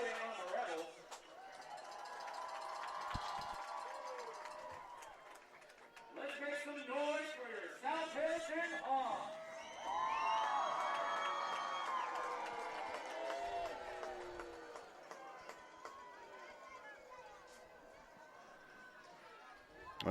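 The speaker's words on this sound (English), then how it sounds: "the South Harrison crowd cheering, and you can hear the boos coming from the Ritchie County side" A high school football crowd at South Harrison versus Ritchie County reacts to a block-in-the-back penalty, with cheering and boos rising and falling in a large outdoor crowd while voices chatter throughout.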